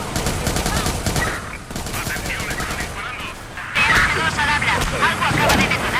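Gunfire in the video game Watch Dogs 2: rapid bursts of automatic shots and scattered single cracks in dense, loud succession, with a brief lull before a louder volley resumes.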